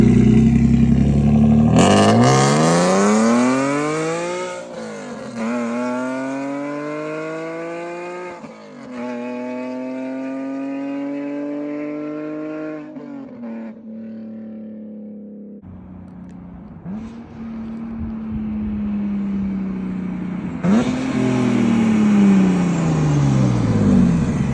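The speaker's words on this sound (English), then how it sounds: "this setup in particular is pretty loud because the car also has Status Group catless headers" A BMW E46 M3 with a valved burnt titanium exhaust and Status Group catless headers revs loudly and close, with several rising sweeps climbing to a howl and dropping back between pauses.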